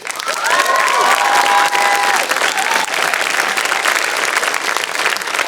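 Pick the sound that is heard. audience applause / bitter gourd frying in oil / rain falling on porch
audience applause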